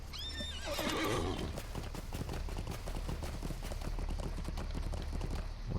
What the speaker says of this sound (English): let's jump on a horse